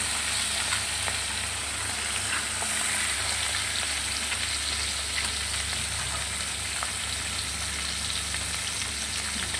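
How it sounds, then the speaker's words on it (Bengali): Fish fries in a pan, producing a steady, loud, close sizzle with fine crackles throughout, over a low hum and without speech. "একটু লাল লাল করে ভেজে নেব।"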